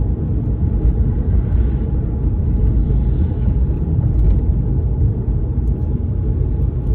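A car driving along a city road in Kutaisi during a driving lesson, heard from inside as a steady, loud low engine and road rumble that continues without a break.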